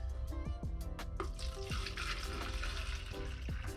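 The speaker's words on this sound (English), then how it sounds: "I'm just pouring out the water in my original glass container" Water poured out of a glass container that held avocado seeds, a steady splashing, gurgling stream into a sink, close and continuous for a few seconds with no talk.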